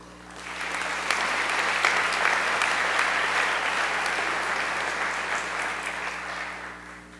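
Audience applause at a school ring ceremony for a junior class, a steady, loud wash of clapping from a large crowd that swells quickly, holds for several seconds and then slowly tapers.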